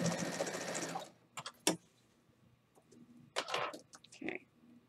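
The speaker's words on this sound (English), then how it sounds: "I'm going to be sewing another row" A sewing machine stitches a row on a quilt in a loud, fast run that stops abruptly, followed by a few sharp clicks and faint handling noises.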